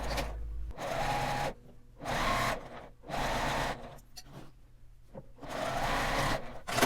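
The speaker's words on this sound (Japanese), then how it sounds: "ここに端ミシンをかけます。" A sewing machine edge-stitches along a zipper on a makeup pouch, running in close, loud bursts of rapid whirring stitches separated by short pauses.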